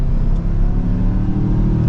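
A 2023 Mazda CX-5 Signature Turbo AWD with a 2.5-liter turbo engine accelerates hard in sport mode, giving a loud, close, continuous engine roar heard from inside the cabin.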